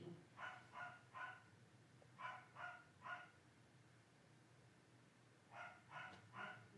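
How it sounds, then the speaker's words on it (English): A dog barks in short bursts of three, repeating in clusters with pauses between them, fairly faint and heard from a distance indoors over a quiet background. "sorry y'all, my dog is barking."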